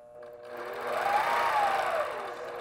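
A longarm quilting machine stitches with a quilting ruler, backtracking along a line. Its whirring motor swells in a smooth, close rise and fall, with no talking.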